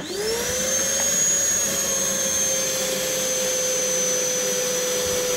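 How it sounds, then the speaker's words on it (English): A powerful vacuum spins up and pumps water out of a flooded aquarium car, its motor rising in pitch within the first half second and then settling into a loud, steady whine; no voices are heard. "It's a lot of water coming out there, bloody hell. Some power in that. That vac's brilliant."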